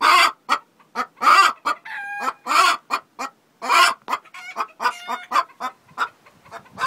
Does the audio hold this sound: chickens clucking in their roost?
yes